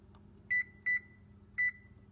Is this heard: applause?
no